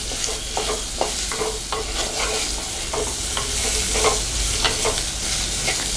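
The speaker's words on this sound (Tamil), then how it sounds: "இந்த காய் வந்து நல்லா நம்ம வதக்கிக்கணும்." Vegetables sautéing in a pan while making moong dal sambar, a steady hiss of frying broken by repeated scraping and stirring strokes of a spoon, close and continuous with no talk.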